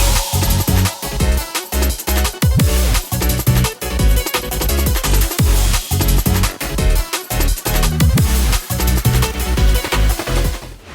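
Dense electronic hi-tech dance track layering disco strings, a plucky guitar loop, sweeping risers, impacts and crashes, loud and continuous with a driving rhythmic pulse throughout.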